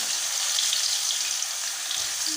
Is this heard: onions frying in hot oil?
yes